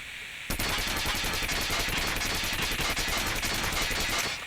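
Krig 6 assault rifle in COD Mobile firing one sustained full-auto burst, loud and continuous for about four seconds after a brief quiet start, with no talking.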